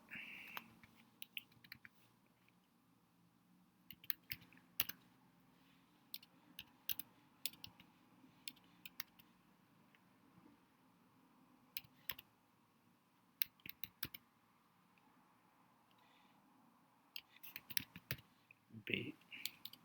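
Keystrokes on a computer keyboard as author names are entered in reference manager software, coming as scattered, fairly faint clicks in short bursts and single taps across the stretch, with quiet pauses between them.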